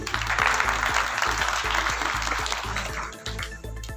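Applause from an audience at a charity dinner in Haripur: a sustained patter of many hands clapping at moderate distance, tapering off toward the end, with a low hum of the hall beneath.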